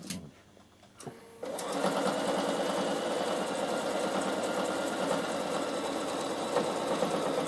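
A Bernina sewing machine starts up after a couple of clicks and then stitches steadily along a seam, a close, even mechanical whir that runs without pause.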